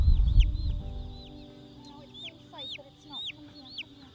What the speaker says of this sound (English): There were chicks